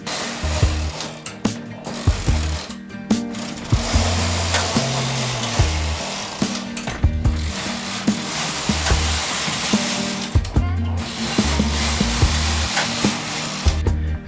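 A knitting machine knits rows of a vest with a steady back-and-forth carriage run. Loud, rhythmic rasping sweeps repeat every couple of seconds, with brief pauses between passes.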